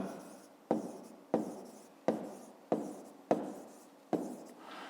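A pen writes on paper in six regular strokes, each a short scratchy burst that starts sharply and fades, close and quiet, with brief pauses between them.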